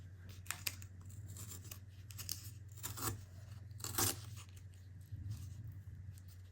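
Paper being cut by hand for a junk journal, with several short, crisp snips and rustling tears spaced unevenly over a steady low hum, close up and fairly quiet.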